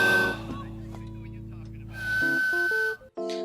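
A thin, high whistle sounds through the gap of a broken tooth in a Mr Bean cartoon, coming in short tonal bursts between breaths with voices and cartoon effects mixed in.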